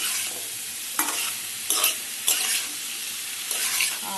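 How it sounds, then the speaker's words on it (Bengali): A spice paste for a vegetarian curry fries in a pan over raised heat, a steady close sizzle broken by a few louder scraping strokes as it is stirred, with no talking. "ফ্লেমটাকে বাড়িয়ে দিলাম, দিয়ে এবার মশলাটা ভালো করে কষাবো"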